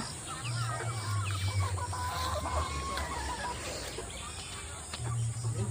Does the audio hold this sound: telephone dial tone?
no